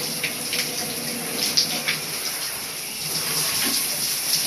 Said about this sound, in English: So I'm putting my whole body under the cold water.